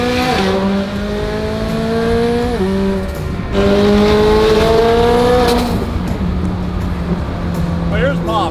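Turbocharged car engine revving at low boost, a loud close drone that climbs and drops in pitch through several gear changes, heard from inside the car.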